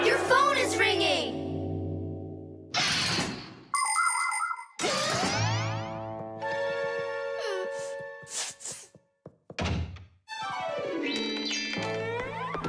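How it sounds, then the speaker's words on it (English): Cartoon telephone ringing with bright jingling, dinging and boinging tones in separate bursts, mixed with other comic sound effects. "Your phone is ringing."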